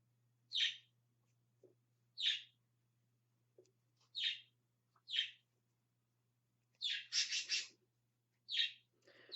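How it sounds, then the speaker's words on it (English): Pet parakeets chirp indoors in a home office, giving short bright calls in bursts every second or two with pauses between, fairly close and clear over a faint steady hum, with no talking. "And my daughter's birds, parakeets, reside in my office."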